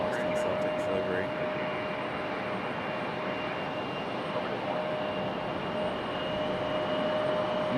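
An American Airlines Embraer E175 jet taxis just below at Raleigh-Durham International Airport, giving a steady, loud broadband engine rumble with a faint high whine throughout, while people talk nearby.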